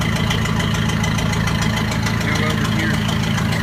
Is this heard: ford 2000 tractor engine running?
yes